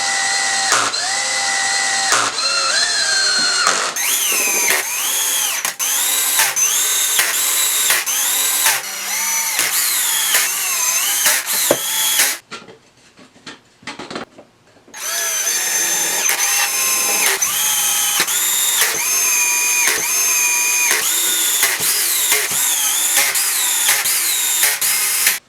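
A power drill drives pocket screws through rails into the legs of a folding wooden wine rack, its whining motor rising and falling in long bursts with one brief pause near the middle and no talking.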